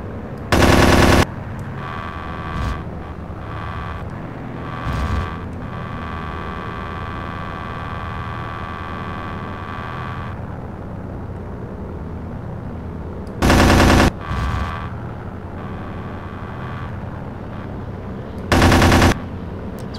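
Aircraft machine gun fire in the Aces High 2 flight game: four short, loud bursts spread apart, with a steady engine drone and fainter clatter running between them.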